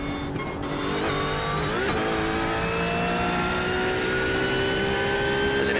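A GT3 race car engine in a racing video game holds a steady high drone, its pitch climbing after a quick upshift around the second mark, loud and continuous throughout.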